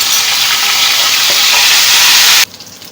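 Hot oil tempering (bhagar) with zarda food colour poured over cooked chana daal, giving a loud, dense, steady sizzle that cuts off abruptly near the end, leaving a faint crackle.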